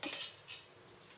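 Brief, faint clinks and clatter of pots and utensils being handled during dishwashing in a home kitchen, a couple of light metallic knocks, no voices.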